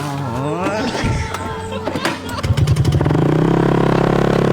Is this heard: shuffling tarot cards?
no